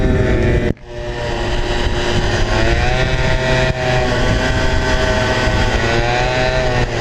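A scooter engine revs hard in a drag race, a loud close droning whine that climbs steadily in pitch, with one brief dip as the throttle drops before it pulls back up.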